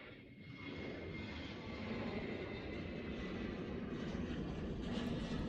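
An airplane departs San Jose airport, its engine roar a steady, distant broadband rumble that builds slightly and holds throughout, with no talking.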